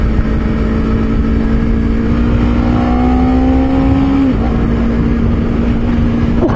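A Honda CBR 250RR sports bike rides steadily over road bumps, its engine holding a loud, even drone with a brief dip and recovery midway, and wind noise throughout.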